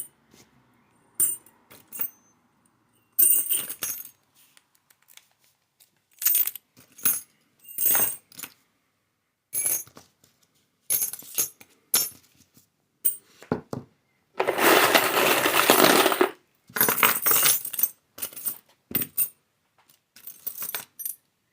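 A large collection of keys jangles and clinks close by in repeated short bursts as they are handled and counted one by one, with a longer continuous rattling shake midway and quiet pauses between.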